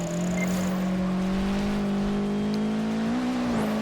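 All-wheel-drive rally car engine in Project Gotham Racing 4 drones loud and steady, holding a sustained buzzing tone that rises slightly near the end, with no talk.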